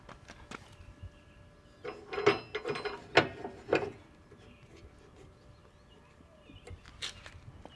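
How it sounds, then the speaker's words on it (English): A SteadyFast stabilizer system on an RV being locked down, heard as a cluster of ratcheting, clanking mechanical clicks in the middle, then a quieter stretch with a few faint knocks near the end. "walk around and lock down the stabilizer system so you can see exactly how long it takes"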